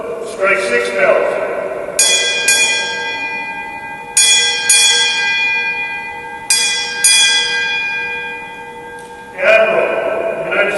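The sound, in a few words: ship's bell struck six times at Navy ceremony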